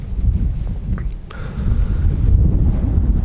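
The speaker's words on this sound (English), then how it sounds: "it's been pretty windy the last couple days." Wind blows at Colton Crater in a volcanic field, a loud low rumbling buffet that gusts unevenly across the microphone for a few seconds.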